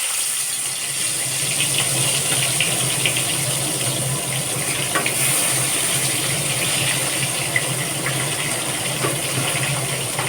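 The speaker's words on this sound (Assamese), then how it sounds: "এতিয়া মই মাছখিনি ভাজি ল'ম।" Fish sizzles in hot oil as it fries for a masala fish curry: a steady, dense hiss with faint crackles and pops, loud and continuous throughout with no talking.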